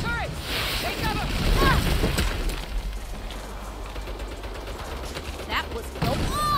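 Rapid turret gunfire from the Saints Row video game rattles on loud and dense for several seconds, a sustained fusillade mixed with whooshing, sweeping tones and mechanical clatter, with voices faintly present beneath the barrage.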